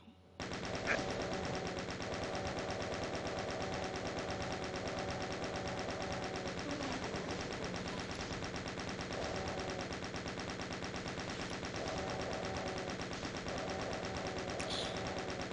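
The chaingun fires in the video game Doom as a continuous rapid stream of loud, dense gunfire lasting many seconds, with brief breaks and other game sounds mixed in.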